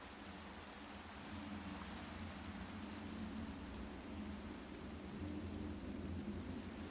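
Rain and thunder in the Minecraft modpack GTNH: steady, faint rainfall hiss with low rolling thunder underneath, continuous and without talk.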